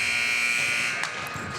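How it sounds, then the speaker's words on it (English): A hockey arena horn sounds at the end of the first period of a high school boys varsity game, a sustained harsh electronic buzz that holds steady, then dips and wavers briefly near its end. "And the buzzer will sound on the first period."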